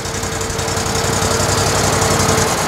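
An ABI Force Z-23 aerator's small engine idles steadily and close by, with an even, low, rapidly pulsing chug and a faint whine held throughout, and no voices.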